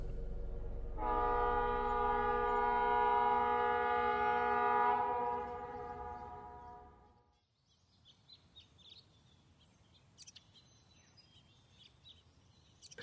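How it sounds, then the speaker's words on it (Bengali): A train whistle at a railway station platform sounds one long, loud, steady blast of about six seconds that then dies away, leaving quieter station ambience with faint scattered chirps. "ট্রেনের বাঁশি বাজল"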